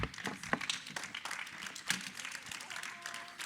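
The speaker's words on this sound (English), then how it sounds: "stand up in her honor and give a round of applause for having gotten us here" Conference audience applauding at a session to honor Mambeki, steady dense clapping from a crowd with a few sharper claps standing out, with voices heard faintly beneath.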